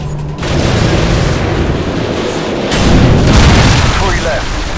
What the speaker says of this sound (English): AGM missiles online.